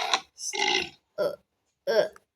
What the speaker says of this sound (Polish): Kto piernął?